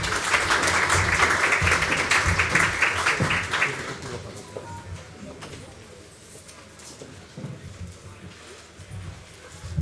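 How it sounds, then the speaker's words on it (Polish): Applause from a conference audience at an IoT hacking talk at CyberTek 2026 rings out for a few seconds, a broad burst of clapping that quickly fades into quieter room sounds. "Gromkie brawa."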